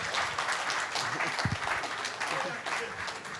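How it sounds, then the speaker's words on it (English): Audience applause at a stakeholders' workshop on auto CNG, a dense steady patter of many hands filling the room for a few seconds with faint voices mixed in. "Clap for me."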